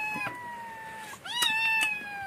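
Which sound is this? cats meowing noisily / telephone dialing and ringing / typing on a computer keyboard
cats meowing noisily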